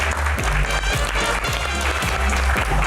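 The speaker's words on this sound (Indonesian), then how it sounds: "Tepuk tangan dong." A studio audience at an Indonesian talk show Q&A about the 2024 election breaks into loud, dense applause, sustained clapping filling the room throughout.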